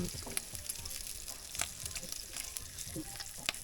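Bacon sizzles as it fries, making a soft, steady crackling hiss with scattered sharp pops of grease close by.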